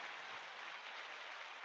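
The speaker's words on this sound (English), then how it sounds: "Give him a round of applause." Audience applause at a sports talk event, a steady dense wash of clapping from a crowd, fairly faint and distant, with no talk over it.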